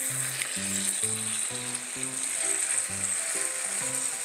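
Poblano peppers sizzling as they char in a pan: a steady, bright hiss of frying runs throughout, with a stepping low tonal pattern like background music underneath.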